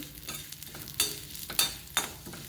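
Dal dry-roasting in a pan for curry leaf chutney, with soft stirring scrapes and a few sharper spatula knocks over a faint steady background, close and alone.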